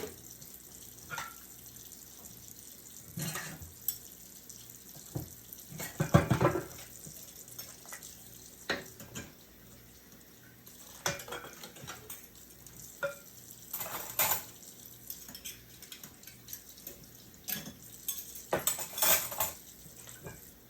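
Dishes being washed by hand in a kitchen sink while cooking oxtail: running tap water with intermittent clinks and clatters of pots, plates and cutlery, moderately close, no speech.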